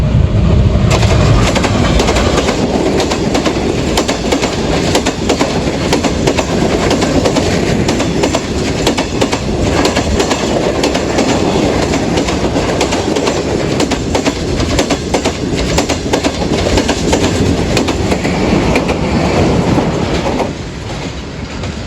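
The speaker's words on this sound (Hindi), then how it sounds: "जमीरत एक्सप्रेस के पीछे ही चढ़ी आ रही है बिजनेस एक्सप्रेस।" A Business Express train passes close by at a station, a loud, sustained rumble of wheels and carriages with steady clickety-clack rhythm filling the whole stretch, fading slightly at the very end.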